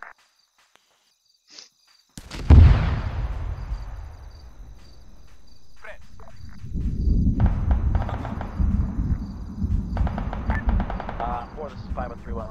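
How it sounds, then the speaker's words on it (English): Armored vehicles in the ArmA 3 game fire in a loud heavy boom, then the rumble dies away before rapid bursts and rattling shots build. Insect-like chirping runs in the background, and radio voices talk over it. "I hear armor teams engagement"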